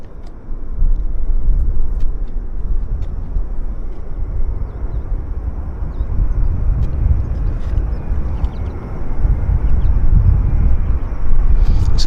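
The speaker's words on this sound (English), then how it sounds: "We got Air Canada Heavy on approach. It's a Dreamliner from Toronto, flight 107." A heavy Air Canada Boeing 787 Dreamliner arrives at Vancouver airport, heard as a loud, steady low roar and rumble of jet engines that swells and holds across the whole stretch, with no talk over it.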